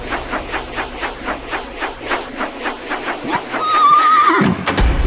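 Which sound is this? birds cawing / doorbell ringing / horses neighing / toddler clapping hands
horses neighing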